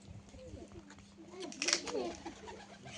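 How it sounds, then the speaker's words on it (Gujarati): Pigeons coo in a crowded flock where children play among them, low soft calls repeating throughout against background voices and a steady hum. "જો મિત્રો અહીંયા એટલા બધા છે કબૂતર"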